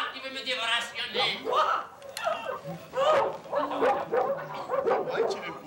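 A dog barking in quick yips mixed with whimpering whines, close and fairly loud, with a voice present alongside the sounds.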